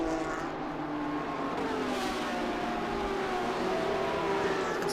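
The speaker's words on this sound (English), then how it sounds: "Now he's up through the gears, up into 5th. Down that long straightaway." GT race car at Road Atlanta during an International GT sprint race, engine howling steadily and loud as it accelerates up through the gears into fifth down the long straight, rising harmonic tones sustained throughout.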